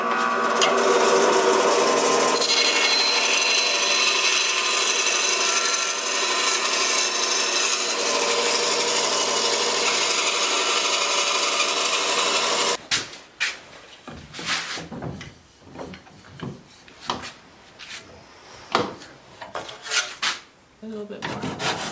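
A wooden neck for a Vigilant Guitars MKIII seven-string guitar is sanded by hand: first a dense, continuous loud rasp, then separate rhythmic rubbing strokes close up.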